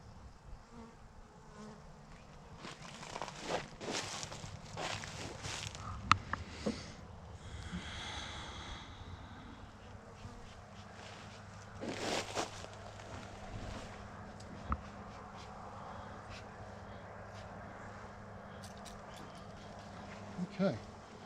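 Honeybees buzz faintly and steadily around a nucleus hive being installed, with louder bursts of buzzing now and then under close handling noises and occasional talk.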